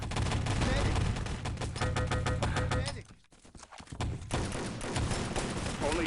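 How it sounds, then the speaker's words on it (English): Several players trade automatic gunfire in the video game Enemy Territory during a LAN tournament match, a dense crackle of rapid shots that drops away briefly then resumes, heard under a commentator's voice. "2 or 3 players shooting at him."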